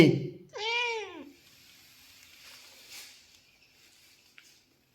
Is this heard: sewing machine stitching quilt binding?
no